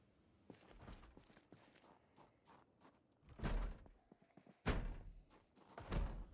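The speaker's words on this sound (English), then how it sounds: "Now, open the side door." A side door is opened in the zombie survival game Project Zomboid, with several heavy thunks and two loud thuds among softer footstep-like knocks, all quiet and close.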